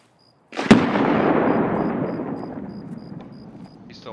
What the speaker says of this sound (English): I could throw a grenade through that window.